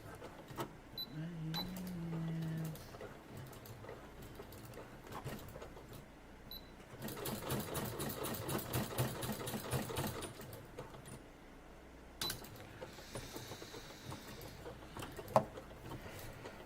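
A home sewing machine running in a craft area in short bursts, its rapid mechanical stitching chatter rising and stopping between quieter stretches of room noise, with faint talk nearby.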